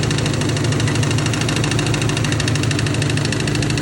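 Rally car engine with a blown motor and terrible rod knock, idling steadily with a rough, pulsing mechanical knock throughout, loud and close with no voices.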